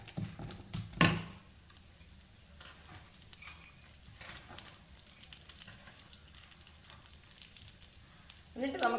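Half a cup of almonds drops into hot ghee with a sharp burst, then settles into a soft, continuous crackling fry punctuated by light stirring, close and fairly quiet.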